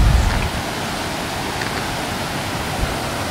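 Water rushes over a dam in a loud, continuous roar of broadband noise, steady and close with no voices.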